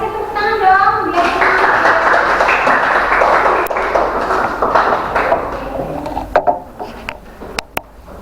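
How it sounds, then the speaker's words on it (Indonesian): A school class in an Indonesian language lesson claps for a group about to present, a loud burst of many hands that thins into a few scattered claps and taps near the end, with some voices in the room. "kasih tepuk tangan dong"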